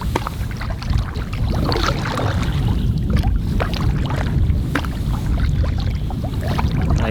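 A canoe glides across open water, giving a steady close wash of water and wind noise with soft irregular splashes, no talking.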